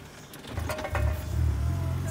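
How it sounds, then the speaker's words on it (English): A manual-transmission car engine rises in revs as the clutch is let out, a low steady rumble that swells and holds near and moderately loud, with no talking over it. "Keep up a little bit higher as you're letting the clutch out. Okay. A little bit more gas."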